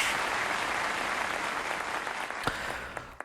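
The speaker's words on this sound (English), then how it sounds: "It's a round of applause" A steady round of applause from a crowd, continuous clapping throughout with a few sharper claps near the end.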